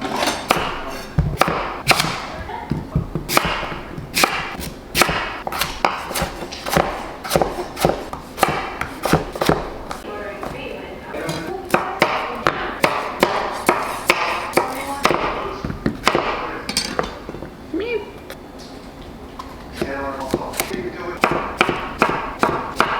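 Sweet potatoes and other food chopped with a knife on a cutting board, a long run of sharp, close knocks in uneven bursts, with a television playing faintly underneath.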